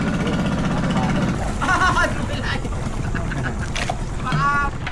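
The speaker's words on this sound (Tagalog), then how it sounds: "Ayan na po yung bangka. Sasakyan natin." A boat for a river ride at Pagsanjan, Laguna, heard amid water noise and bustle, with people talking and calling out nearby throughout.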